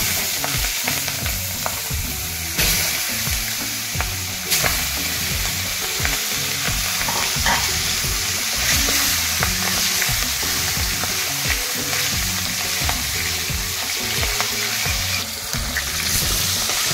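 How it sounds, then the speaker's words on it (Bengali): Onions coated with turmeric and salt deep-fry in hot oil, giving a loud, continuous close sizzle with stirring scrapes throughout and no talking. "এইভাবে আমি পেঁয়াজগুলো ভালো করে ভেজে নেব।"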